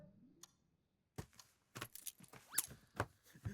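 Vehicle keys jangle in a home, a burst of bright metallic clinks and rattles that starts after a near-silent moment and continues in quick, uneven shakes, close by and moderately loud.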